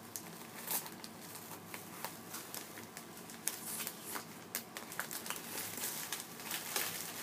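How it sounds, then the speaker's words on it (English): Packaging torn open by hand, a steady run of close crinkling and rustling with sharp ripping bursts scattered throughout, quiet and continuous with no talk. "Just rip it with your hands."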